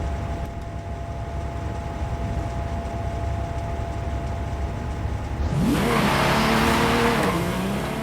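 A Ferrari road car in a racing video game, its engine droning steadily at first and then revving up hard with rising and falling pitch in the last few seconds, loud and close with no talk.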